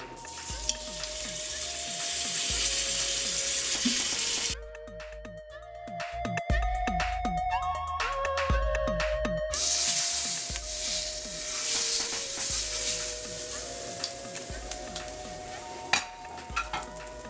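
Pork shoulder cubes sear in hot oil inside an Instant Pot pressure cooker, a steady loud sizzle broken midway by utensil clatter and scraping as the pieces are stirred, then the frying hiss returns.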